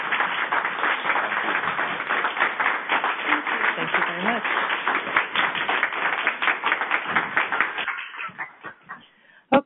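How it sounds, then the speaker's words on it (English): An audience claps steadily for several seconds, a dense patter of hands that thins out and fades near the end. "a round of applause for our speakers"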